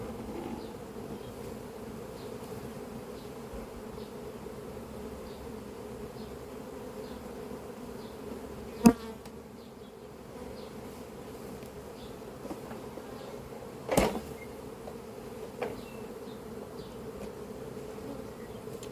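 Honey bees from a captured swarm drone steadily inside a hive, a continuous low buzz broken by a couple of sharp knocks against the wooden box.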